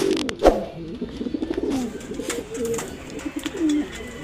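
Racing pigeons coo in soft repeated bursts close by, with a few scattered clicks and rustles in the background.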